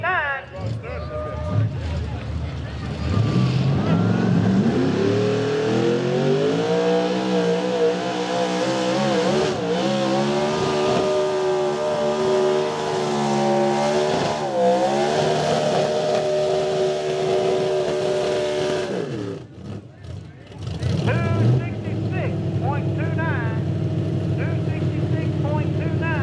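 An Outlaw 4x4 truck launches down a drag strip at Millers Tavern, its engine roaring loud and close, climbing in pitch through the gears before a brief lift and renewed throttle, with an announcer talking over it.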